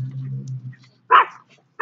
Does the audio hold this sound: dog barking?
yes